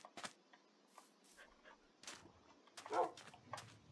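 Dogs in a Minecraft game give a few short, faint barks and whimpers, scattered and spaced out, with light background game noise.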